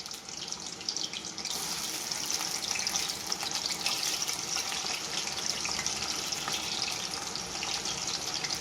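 Finely diced potatoes fry in plenty of oil with cumin for sabudana khichdi, a constant close sizzle that swells after a quieter start and holds steady without talk.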